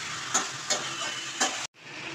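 Jackfruit curry sizzles steadily in a hot pan as a little water is added, a dense hissing fry with a few soft stirring knocks, briefly cutting out before resuming.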